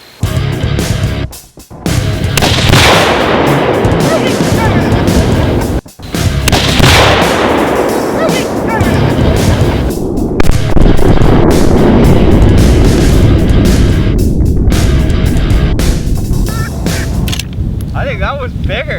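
Kaboom binary exploding targets detonating when shot outdoors, several loud booms and cracks that echo and roll off, with people talking in between.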